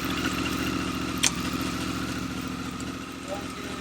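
Africa Twin motorcycle engine, damaged after a wreck, runs steadily and close with a constant mid-range drone as it is shifted into second gear, one brief sharp clack partway through.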